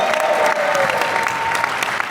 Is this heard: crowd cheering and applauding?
yes